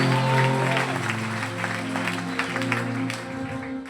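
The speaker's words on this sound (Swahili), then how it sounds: "Siku apigie Yesu makofi." Congregation in a church service clapping for Jesus, a broad wash of hand claps sustained over several seconds with steady tonal sound, likely music or voices, beneath.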